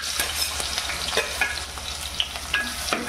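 Cumin, curry leaves and garlic-ginger paste sizzle in hot oil, a steady frying hiss broken by scattered spoon scrapes and clicks against the pan. No voices.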